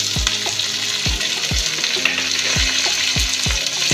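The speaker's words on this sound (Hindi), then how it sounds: "इसको हम हल्का सा सौते करेंगे। देखिए ये सॉटे हो गया है।" Curry leaves, green chillies and capsicum sauté in a hot oiled pan, a steady loud sizzle with regular stirring scrapes and knocks about every half second, no talking.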